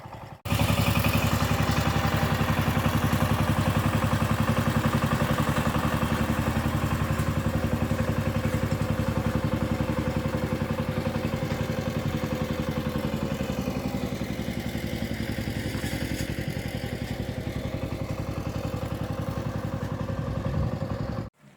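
A walking tractor's engine runs continuously on a farm, a close, loud, even mechanical chug with rattling and occasional thuds, steady from start to finish with no voices.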